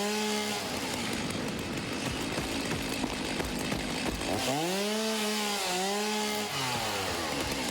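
In the factory-building game Satisfactory, a chainsaw roars steadily through wood, its engine pitch rising and dipping in swooping arcs as it bites in and revs, loud and continuous with no talk.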